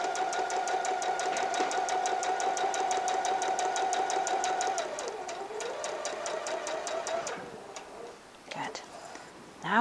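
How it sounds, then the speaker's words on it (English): Sewing machine stitching a quarter-inch seam along a drawn line on half-square triangle quilt pieces, a rapid even mechanical ticking that slows and stops, with a soft voice talking over it. "I just line up my 1/4 inch foot with that drawn line, and I can see that my stitches will be a 1/4 inch away from that line"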